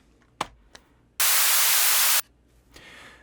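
A one-second burst of bright, hissy noise with the low end stripped away, preceded by a couple of faint clicks and followed by quiet.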